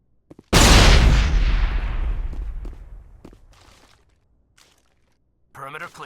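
A grenade explosion in the video game Mass Effect: one sudden, loud, close blast with a long rumbling decay over several seconds, and a brief voice near the end.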